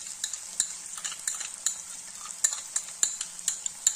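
Crispy fried baby corn is stirred with a spatula through a freshly added sauce in a hot pan, giving repeated sharp scrapes and clinks over a steady sizzle, close and moderately loud, with no voices.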